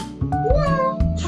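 A single drawn-out cat meow rises and falls in pitch, fairly close, over a low background hum and faint talk.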